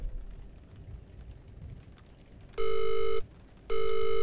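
A telephone rings twice in the horror game Visage, each loud electronic ring lasting about half a second with a pause between, over a steady low background of rain.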